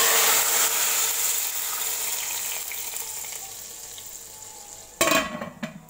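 Cumin seeds frying in hot oil for masoor dal, a strong steady sizzle that slowly fades, then a sudden burst of louder crackling near the end.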